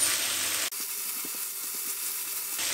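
Peppers and tomato sizzle steadily as they are sautéed in a frying pan for a vegetable sauce, a close, continuous hiss with faint scraping and stirring throughout.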